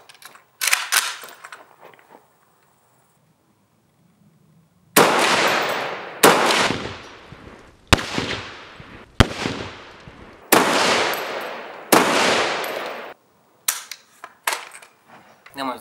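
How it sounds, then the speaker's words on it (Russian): A TG2 Magnum Kalashnikov-style hunting carbine fires a fast series of loud, sharp shots at wooden blocks outdoors, around eight close reports in quick succession with a few quieter clicks before and after. "Постараюсь стрелять достаточно быстро."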